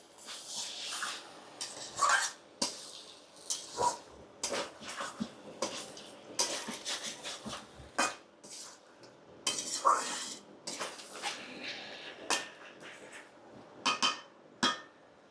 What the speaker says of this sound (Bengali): আমার মাংসটা প্রায় কষানো হয়ে গেছে, আরো কিছুক্ষণ কষাবো